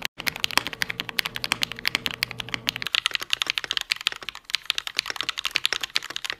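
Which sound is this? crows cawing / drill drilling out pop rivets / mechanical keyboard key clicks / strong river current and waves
mechanical keyboard key clicks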